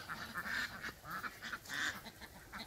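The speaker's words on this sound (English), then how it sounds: "What are you doing, ducks?" Farm ducks quack in close, repeated honking bursts, several loud calls in an uneven rhythm with no talk over them.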